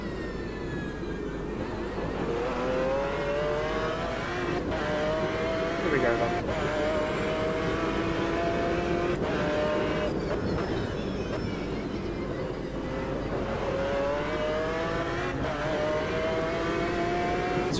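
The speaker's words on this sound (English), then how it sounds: "V12 BMW power." A V12 BMW race car in Automobilista 2 revs hard at Bathurst, its engine pitch rising and falling through gear changes. The engine drones steadily and loudly the whole time while someone talks over it.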